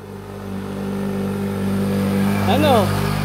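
A motorcycle rides past close by during a bicycle ride, its engine droning steadily and swelling near the end, while voices talk over it.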